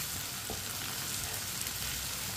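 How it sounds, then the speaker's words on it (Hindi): Okra (bhindi) cooking in a pan, a soft continuous sizzle and hiss, fairly quiet and even throughout the short stretch, with no speech. "अब इसे हल्का सा ब्राउन होने तक पका लेंगे।"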